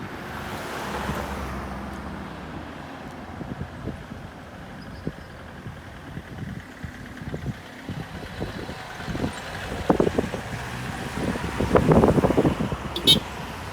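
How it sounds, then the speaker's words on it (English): Country breeze in rural Barbados buffets the microphone with continuous low rumbling wind noise, rising into stronger gusts toward the end. "you can feel all the country breeze blowing on me"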